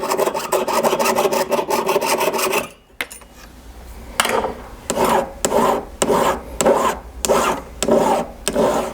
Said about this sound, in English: once you've sawn the tabs off of your piece of silver